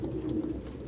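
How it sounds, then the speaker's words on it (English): Pigeons coo steadily and close by in Detroit: Become Human, a low, soft burbling that carries on without a break, with no voices. "No human could live with all these fucking pigeons."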